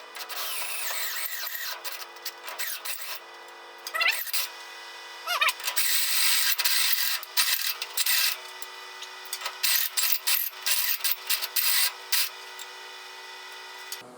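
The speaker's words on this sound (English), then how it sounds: "And now I'm going to go right with a step drill." Step drill bit boring through a metal exhaust pipe during crash damage repair, a rough grinding rasp that comes in repeated short bursts with brief pauses between them, fairly close and steady throughout.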